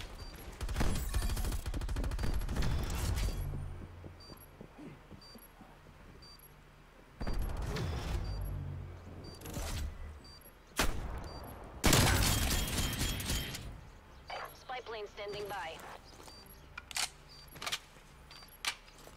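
Rapid bursts of gunfire from the video game Call of Duty Cold War, loud volleys in several clusters separated by quieter gaps, with mechanical clicks in between.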